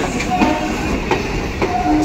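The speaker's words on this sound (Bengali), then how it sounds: "ট্রেন আসছে।" A train rolls past on a city railway line, its wheels beating a steady clickety-clack close by, with faint squeals and a constant rumble.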